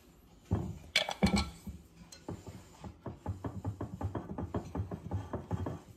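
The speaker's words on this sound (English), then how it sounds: "I'm going to go ahead and do it with my whisk" Cupcake batter whisked by hand in a bowl, a rapid series of rhythmic clinking and tapping strokes after a few louder knocks at the start, fairly close and with no talking.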